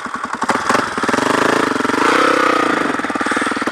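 A KTM motorcycle's engine rumbles up close with a loud, rapid pulsing beat that rises and falls slightly as it revs, with no voices over it.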